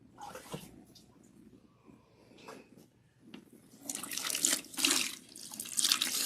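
Tap water streams over hair as a protein treatment is rinsed out without shampoo, running milky yellow. It starts fairly quiet and intermittent, then swells into a loud, close, steady splashing rush for the last couple of seconds.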